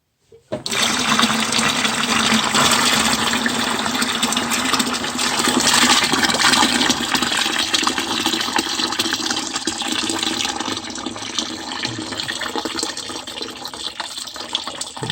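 Water gushing from the drain of a Slant Fin Galaxy gas-fired steam boiler during flushing, a loud, steady, hissing torrent that starts abruptly and runs continuously.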